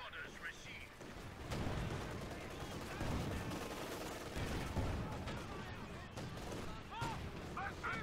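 Mortar and artillery fire from a Company of Heroes 2 4v4 match: heavy, rumbling booms and bursts of gunfire overlap in a continuous battle din, with players talking over it.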